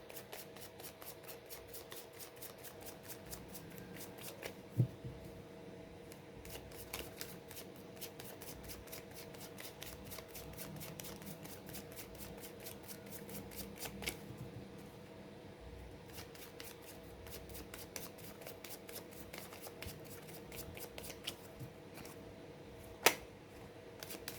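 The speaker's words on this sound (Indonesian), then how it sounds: "saya kocok kartunya" Tarot cards are shuffled by hand for a long stretch, a fast, steady run of soft flicking riffles that stays faint and close, broken by a couple of sharper taps.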